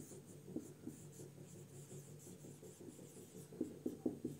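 Faint scratchy marker or chalk strokes on a board during a Class 12 physics lesson on magnetism, soft and steady with a cluster of sharper taps near the end.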